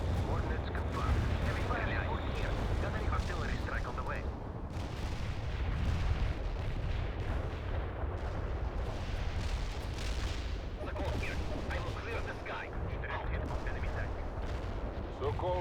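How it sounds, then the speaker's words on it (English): Continuous rumbling artillery barrage from the video game World in Conflict, dense booms and crackling gunfire layered into a steady loud roar throughout, with a radio-style voice speaking over the battle. "Launching artillery barrage."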